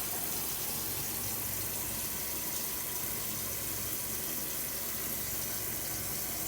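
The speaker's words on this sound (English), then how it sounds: "I'm just putting my hand over it, and I'm just pouring out that water because the beans have been soaking in all that water" Soaking water poured out of a pot of large beans while a hand holds the beans back, a steady splashing gush into a sink that runs unbroken from start to finish.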